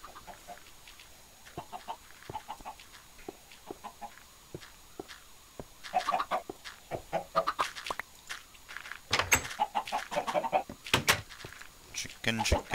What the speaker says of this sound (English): chicken, chicken, give me chicken